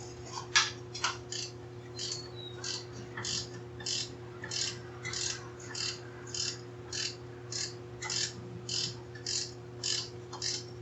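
A hand ratchet turning a timing cover bolt on a Small Block Ford engine, a rapid, steady series of sharp clicking pawl bursts repeating about twice per second, close and fairly quiet over a low background hum, with no talking.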